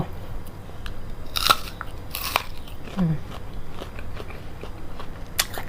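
Crunchy bites into chocolate-coated jumbo jujube fruit, a few sharp crisp snaps with quieter chewing between, close to the mic against a low background hum.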